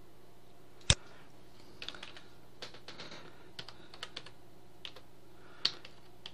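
Keys tapped on a computer keyboard to enter a web address into a browser, a sparse run of soft clicks with one sharp louder tap early and another near the end, alone and fairly close.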